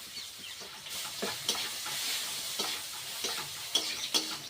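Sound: green chillies, onion, ginger and garlic frying in oil

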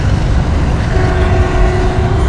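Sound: train near railway track

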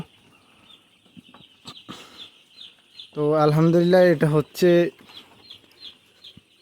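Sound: chickens clucking on a poultry farm

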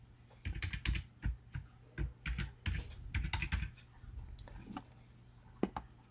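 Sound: typing a username and password on a computer keyboard

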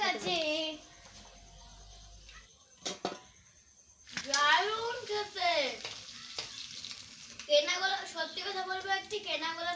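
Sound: papad being fried

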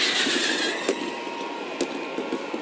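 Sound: fizzing fireworks sound effect

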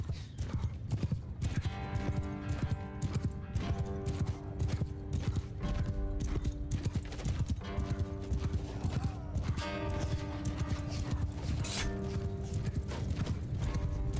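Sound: horse hooves and neighing in video game Mount & Blade II: Bannerlord

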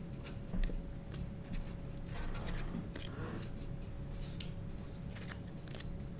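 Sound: shuffling a deck of cards

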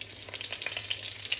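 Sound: chicken frying in a pan

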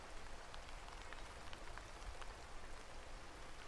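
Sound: rain falling in the video game Horticular

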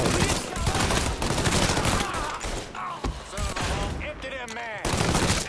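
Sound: gunfire from automatic weapons in video game Mafia III

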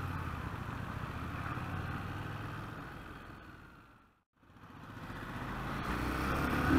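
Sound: Harley Davidson motorcycle engine during test ride

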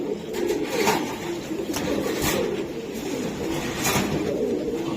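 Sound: racing pigeons cooing

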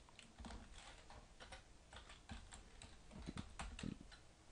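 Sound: typing code on a computer keyboard

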